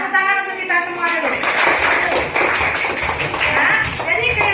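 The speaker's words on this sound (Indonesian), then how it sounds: "Tepuk tangan untuk kita semua dulu." A class of students applauding together, clapping rising after a voice at the start and continuing loudly with mixed chatter underneath.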